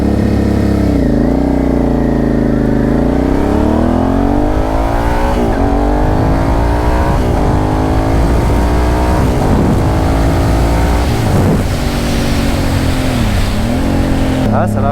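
A Suzuki SV650S motorcycle pulls away from a standing start on a closed road, its engine loud and close, revving hard and climbing through several gear changes for the full duration.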